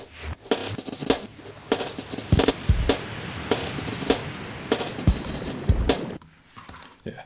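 A choppy, smeared time-stretched breakbeat drum loop with stretched, grainy hits and warbling texture, playing for several seconds before dropping away near the end.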